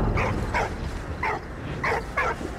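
A dog in the World War I game Valiant Hearts gives a series of five short yips and barks, evenly spaced and fairly quiet, over a low background rumble.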